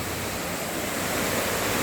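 A waterfall on a South Indian road trip gives off a continuous broadband roar of rushing water, steady and fairly distant, with no voices over it.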